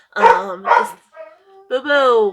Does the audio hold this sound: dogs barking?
yes